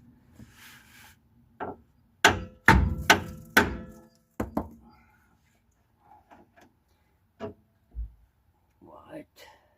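A hammer lightly taps a tie rod end on a Peugeot 404, producing a close cluster of sharp knocks followed by a few scattered softer taps, with someone talking between them.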